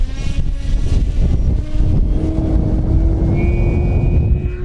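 An E-flite V1200 RC airplane takes off from grass, its electric motor whining loudly and rising steadily in pitch as it accelerates close by, with wind noise and rumble underneath.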